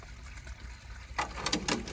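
Water runs from a small waterfall that a pet drinks from, a faint steady trickle that gives way to brighter splashing and gushing bursts in the last second.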